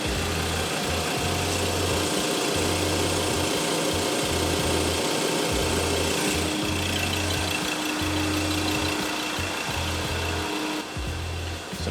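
A car engine idles right after an oil change, a steady low rumble with a regular pulsing throb close by and no voices over it.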